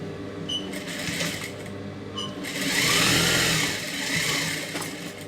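Electric sewing machine stitching the waist seam of a silk pavadai skirt, short bursts of rapid mechanical whirring and needle chatter with brief stops in between, heard close and clear without speech.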